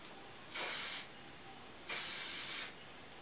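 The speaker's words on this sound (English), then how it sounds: "So now I'm actually spraying the curls" Two steady bursts of hairspray hiss close by onto curled hair, each lasting about half a second to a second, separated by a short quiet pause.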